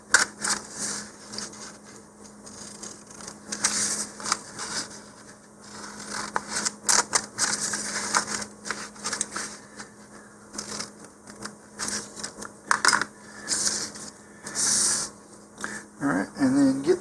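Crisp cutting and snipping on cardboard or paper as a shock cord mount is cut from an Estes Orion 3D Rigel model rocket kit, a run of close, irregular cuts and rustles alone at a steady moderate level.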